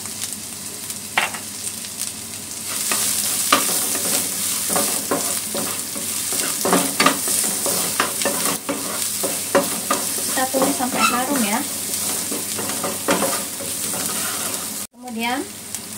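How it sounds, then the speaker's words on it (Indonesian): Chili, ginger and garlic sizzle steadily in a hot pan that previously held egg, while a utensil stirs and scrapes, with a brief clatter near the end. "cabe, jahe bawang putih kita tumis ya"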